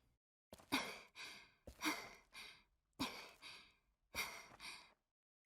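Heavy breathing sound effect in the video game Chaos;Child, four slow, loud, close breaths in an even rhythm, each a breathy rush that fades off, with short silences between and no talking.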